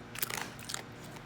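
A dog crunches potato chips noisily with its mouth open, making a quick burst of crisp, close crackling bites followed by quieter chewing, with no talk.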